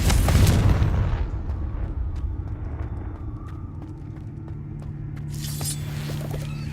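Confringo blasting spells in the video game Hogwarts Legacy: a loud explosive burst at the start, then a sustained low rumbling roar that stays close and heavy throughout.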